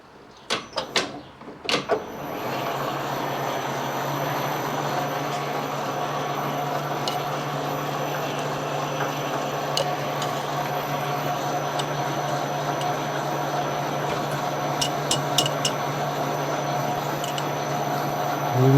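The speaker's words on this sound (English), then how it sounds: "we're going to go ahead and start drilling" A few sharp knocks open, then a drill runs steadily with a constant whine and grinding hum, broken by occasional light clicks, drilling a hole in a Suzuki RM125 motorcycle crankshaft.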